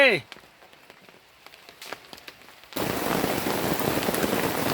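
Heavy rain in a forest drumming on a tent, a dense loud hiss that starts abruptly partway through after a quieter stretch of scattered clicks and small sounds.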